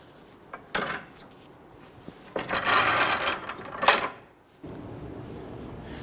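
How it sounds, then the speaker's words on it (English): A torque wrench tightens a sway bar link nut to 58 foot-pounds on a 2011-2017 Nissan Quest: a few short metallic ratcheting bursts, then a quieter steady background, with no speech. "We're going to torque this to 58 foot-pounds."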